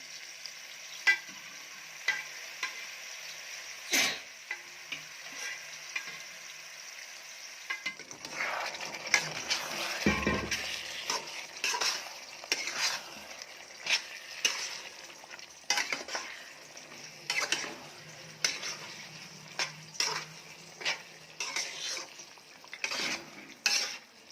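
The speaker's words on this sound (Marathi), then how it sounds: "ग्रेव्हीमध्ये मटण छान मिक्स करून घ्यायचं आहे" Cooked mutton being stirred into roasted Kolhapuri masala gravy in a pan, with repeated scraping, clinking spoon-against-pan strokes over a soft oil sizzle, close and fairly quiet throughout.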